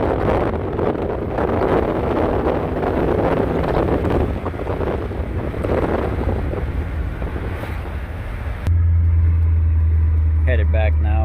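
A car driving after a Seafoam induction cleaning, with steady road and wind roar under occasional speech, then a sudden cut to a low, steady hum.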